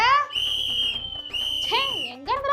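A person whistles a bright, loud tune, with long sustained notes broken by short pauses and ending in swooping, sliding pitches, heard alone and close.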